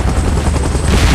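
Loud rotor chop of an evacuation helicopter in PUBG Mobile's Godzilla and Kong versus Mechagodzilla mode, a continuous thumping blade pulse over deep engine rumble, steady and close for the whole moment.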